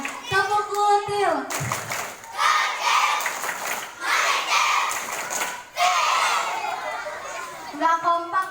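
Elementary school scouts do the tepuk kutil clap chant, a crowd of children clapping and shouting in uneven bursts, with an adult voice speaking at the start and end.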